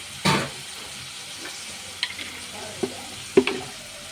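Dried fish fries in a pan with a low, steady sizzle, broken by a handful of close, sharp taps and scrapes of a utensil, with no one talking.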